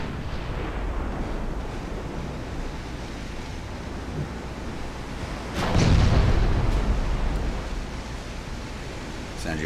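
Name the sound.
warship gunfire in video game Ultimate Admiral: Dreadnoughts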